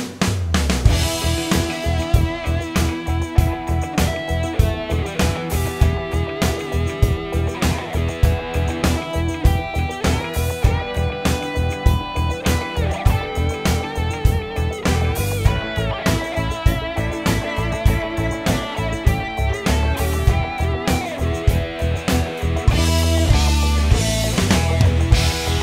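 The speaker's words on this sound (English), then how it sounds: "backing track for a friend. It sounds like this." A full backing track mix plays loud and steady, with a driving beat, bass, and layered distorted instruments running continuously without a break, with no talking.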